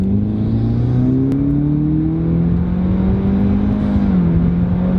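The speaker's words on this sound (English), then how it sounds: "Now we'll step on the gas and see what it does." A wrecked Subaru WRX accelerates with its engine rising in a steady droning tone, loud and close, then the pitch dips briefly near the end as it shifts or lets off.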